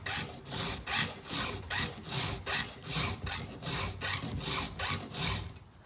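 A chainsaw chain's teeth are sharpened with a hand file in an Oregon file guide, giving about a dozen regular, rasping strokes in a steady back-and-forth rhythm, close and fairly quiet, with no talking.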